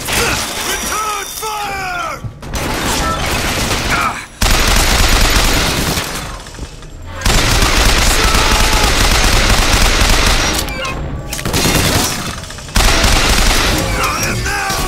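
Gunfire in Bioshock Infinite rattles in heavy, loud bursts of rapid shots and booms, split by short silent gaps, with mechanical clatter and glassy shatters mixed into the close-up combat noise.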